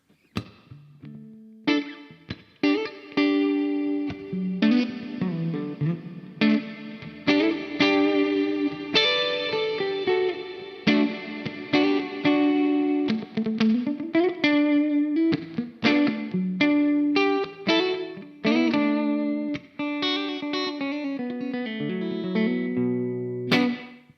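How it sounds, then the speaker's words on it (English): Guitar chords played through the hall reverb of a Crazy Tube Circuits Sidekick Jr pedal, notes ringing out into a wide, roomy wash with long decaying tails between strums. "That's the Hall reverb next."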